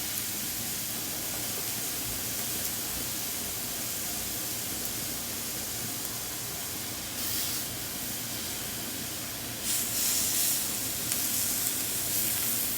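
A steak sizzles steadily on a Snow Peak tabletop grill, with a continuous bright hiss of frying fat that stays fairly loud and close throughout and swells a little louder near the end, with no talking.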